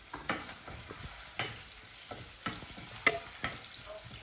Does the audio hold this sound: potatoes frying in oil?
yes